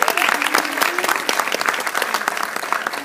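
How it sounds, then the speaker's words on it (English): Applause from the audience at a high school FFA recognition event, with clearly audible individual claps in a fairly close, lively round and faint voices mixed in underneath. "round of applause for him"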